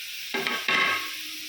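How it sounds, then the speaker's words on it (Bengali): Peanuts fry in a pan, two quick bursts of scraping and rattling stirs over a soft sizzle, close and brief. "বাদাম ভাজছি, বাদামটা দিয়ে দিলাম"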